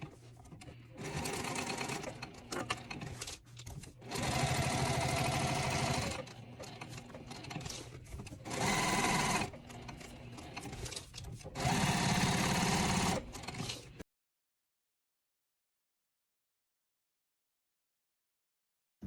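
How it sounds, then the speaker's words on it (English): A sewing machine stitches fabric for a reusable gift bag in several loud, close bursts of rapid mechanical whirring, separated by short pauses, before the sound stops into silence. "I'm going to stitch all the way around using an 1/8 inch seam allowance"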